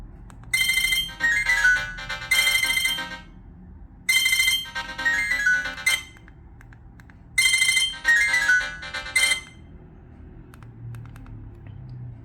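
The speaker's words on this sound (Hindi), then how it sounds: "रिंग देख लेते हैं कैसी है इसकी" A ringtone from an itel Signal 10 feature phone plays as three loud, bright melodic bursts, each about two seconds long with short gaps between them, sounding alone with no talk.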